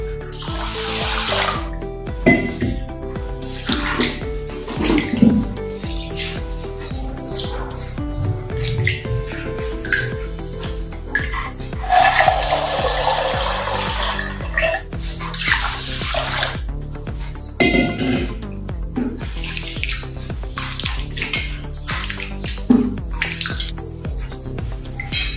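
Water swishing through raw rice as it is rinsed again in a metal vessel; a long stretch of pouring, sloshing and dripping with occasional knocks of the pot, close and steady, without voices.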